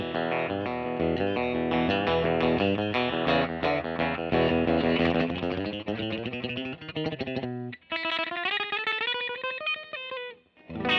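A 1959-style Fender Custom Shop Stratocaster relic electric guitar played clean on its bridge pickup alone, ringing chords and single-note runs with a bright, slightly grainy tone, continuous and up close.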